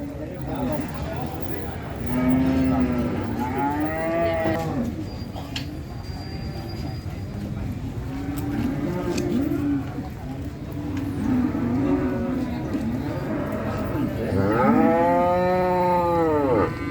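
Simmental cattle low repeatedly at the Jetis Ponorogo cattle market in East Java, long loud moos rising and falling amid a busy crowd, with someone talking over the din.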